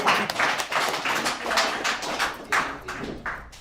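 Audience applause for a speaker being introduced at an alumni recovery meeting, a steady patter of many hands clapping at close range for several seconds.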